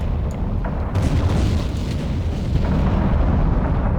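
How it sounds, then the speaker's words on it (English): A J&K class destroyer blows up in the submarine game Silent Hunter 3, with deep rumbling booms and sustained roaring explosions, loud and continuous, plus several sharper cracks. "And quite a lot of explosions."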